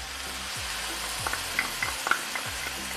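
Onion frying in a pan with Worcestershire sauce and seasonings gives a steady, fairly quiet sizzle. A few soft stirring scrapes and small pops rise above it at intervals, and nobody speaks.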